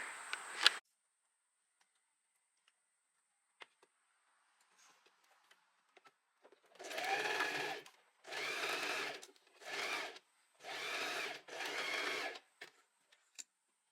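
A sewing machine stitching a pocket seam on linen shorts, five rhythmic whirring bursts of a few seconds each with short pauses between, close and clear, following a quiet stretch of small clicks.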